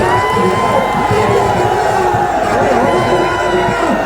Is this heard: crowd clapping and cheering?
yes